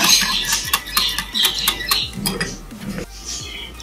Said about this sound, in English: Now I've added the milk completely and I'm beating it.